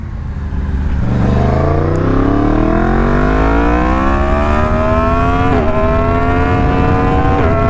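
A Yamaha MT-10 fitted with a bigger rear sprocket accelerates hard, its engine note climbing steadily in pitch for several seconds, with brief dips at two upshifts. The engine stays loud and close throughout, with no talking.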